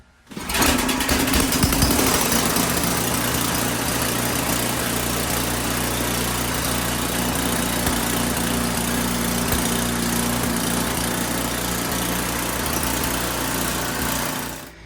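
Ariens 1130LET track snowblower engine idling steadily after starting, a continuous close mechanical drone with a constant low hum running unchanged for about fourteen seconds.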